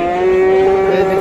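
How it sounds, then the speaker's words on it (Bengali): A crossbred bull at a cattle market lets out one loud, close, sustained moo lasting the whole moment, a steady tonal bellow with no talk over it. "এখানে একটা ক্রস জাতের ষাঁড়।"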